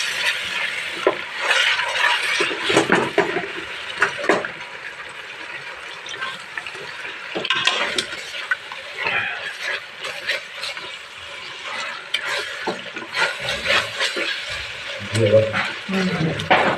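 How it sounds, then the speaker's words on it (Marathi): Curd frying in a pan for chicken malai seekh biryani, a continuous close sizzle broken by frequent scraping and clattering stirs, with a few bumps and knocks toward the end. "फ्राय करून घेणार आहे."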